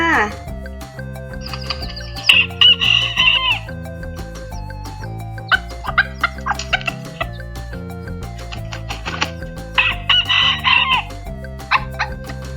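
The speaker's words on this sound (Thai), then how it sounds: "เก่งมาก ๆ ค่ะ เสียงของไก่นะคะ" A rooster crows a few times against a backdrop of music, with cat-like meows mixed in; the calls are bright and fairly close.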